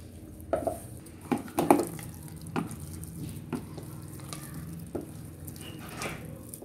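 Rice flour batter with soda is stirred with water in a bowl, giving a few scattered clinks and scraping knocks that come close and fairly quiet, then a softer sloshing mix.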